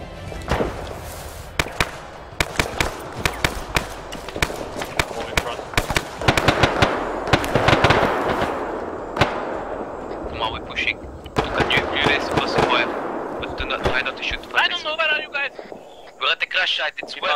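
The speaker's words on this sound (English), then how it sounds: "We got a sniper to our rear shooting at us." Gunfire in a video game firefight, with a sniper shooting from the rear at a crash site, arrives as sharp irregular cracks and bursts under frequent talk, with louder shots clustered through the middle.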